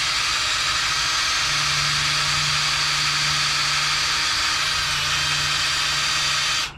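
A drill runs slowly and steadily at close range during drill bit sharpening, giving a continuous even whir that holds for several seconds and then stops abruptly.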